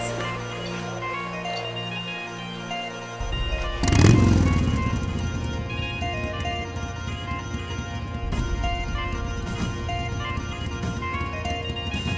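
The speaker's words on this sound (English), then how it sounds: "The boys go out and come back with fast-moving motorbikes." Motorbikes ride past, with a sharp loud swell near the start and then a steady, busy engine drone that carries on to the end; no talk is heard.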